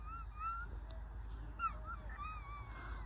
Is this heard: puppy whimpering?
yes